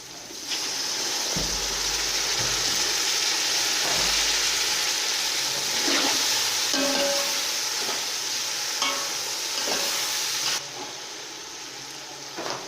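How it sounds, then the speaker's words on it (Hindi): Chillies sizzle and fry in a pan for chana pulao, a continuous crackling hiss punctuated by stirring scrapes and clinks, fairly loud and close with no talk. "मिर्चें फ्राई हो चुकी हैं।"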